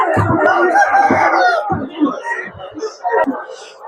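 Roosters crow loudly at a poultry market in Sabunchu among turkeys and hens, several drawn-out cock-a-doodle-doo calls up close, mixed with clucking and people talking nearby.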